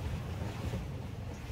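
A jet ski rides over sea waves at Coral Island near Pattaya, Thailand, with steady wind buffeting and splashing water rushing close to the microphone and no voices.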